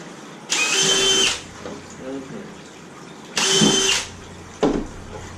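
A power drill bores a hole through a plastic PVC crate being built into a kayak fishing crate, in two loud whining bursts of about a second each with a short knock after the second, near and with quiet gaps between.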